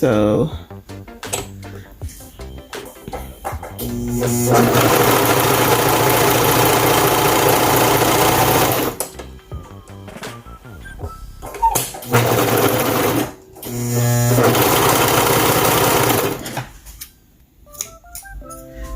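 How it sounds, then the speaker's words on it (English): A Brother sewing machine stitches a line on scrap fabric, running loudly and steadily in two long bursts with a short pause and gaps between, and a person speaks briefly at the start. "I'm just gonna use the same scrap fabric and I'm just gonna run a line of stitches right here"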